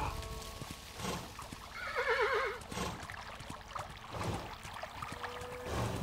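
A horse whinnies in the middle of the video game Kingdom while hooves clop steadily throughout, over a low background of game ambience.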